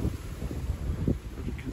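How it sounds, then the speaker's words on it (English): Strong wind buffets the microphone at a cold riverbank on a carp-fishing trip at Trent view, a continuous low, rumbling roar with gusty swells and no talking. "As you can see, it's very windy."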